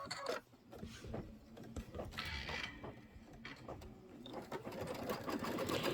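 Embroidery sewing machine running a tack-down stitch, a continuous close mechanical whir with rapid needle clatter and ratcheting gear noise throughout, no voices.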